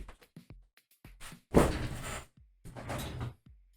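A kitchen drawer being opened and closed, with a few light clicks and taps followed by two louder, close sliding rumbles, the second after a short pause.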